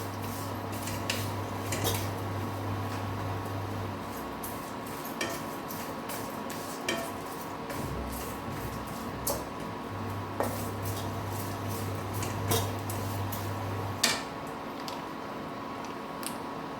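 A spoon stirs cooked rice into puliyogare paste in a pan, repeated soft scrapes and clinks of metal against the pan over a steady low hum, with no talking.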